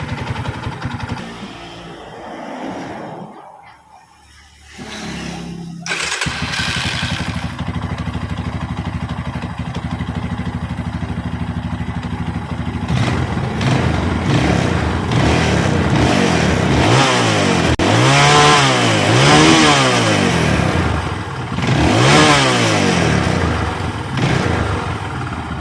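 A serviced Yamaha Scorpio motorcycle engine, heard close up, idles and dips briefly, then rises to a sustained loud run with repeated rising and falling revs in the second half.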